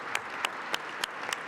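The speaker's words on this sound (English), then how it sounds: "So please give yourselves a round of applause." Guests at a youth sports luncheon in a large hall give a soft, distant round of applause, with a few sharper individual claps standing out at a regular pace.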